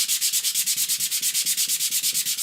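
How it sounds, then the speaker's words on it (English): A small wooden piece is rubbed back and forth on sandpaper laid on a flat surface, giving a steady, rhythmic scratchy hiss of about seven strokes per second, close and alone with no talk. "for little pieces like this, the only way to do it is to put down onto a piece of flat surface, sandpaper, and then just do this a little bit"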